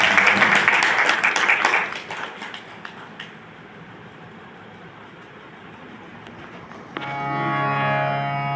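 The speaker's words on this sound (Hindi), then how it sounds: "एक बार आप लोग भी ताली बजाएं।" Audience applause at a religious ceremony, a dense crowd clapping loudly for about two seconds before fading into low murmur, then sustained tonal music entering near the end.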